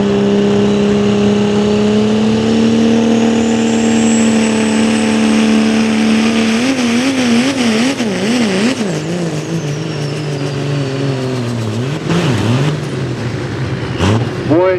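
A GMC pulling truck called the Outlaw, now running a 6.7 Cummins diesel, roars loudly under heavy load at a truck pull, its steady drone turning into wavering, surging revs as it struggles far down the track.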